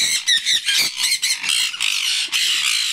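Hand-fed baby conure parrots, eyes just opened, squawk and squeal in a rapid, continuous run of shrill, close calls with no talking.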